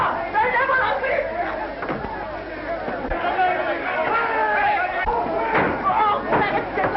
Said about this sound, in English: Break down the door! They'll never open it!